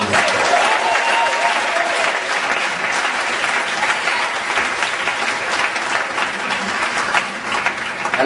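A church congregation at a Sunday worship service applauds: steady, full clapping from many hands, fairly loud and continuous throughout, with a faint murmur of voices underneath.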